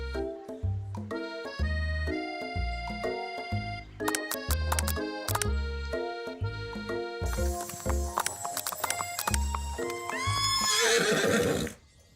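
A horse whinnies in a dating video game over busy synthesized game music with clip-clop-like hoofbeats, ending in a loud burst of layered effects.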